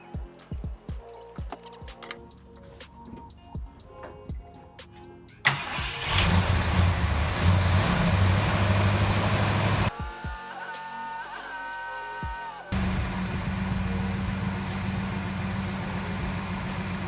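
An old family heirloom vehicle's engine cranks and catches after fuel is poured into the carburetor bowls, then settles into a loud, steady idle that shifts in pitch as it runs.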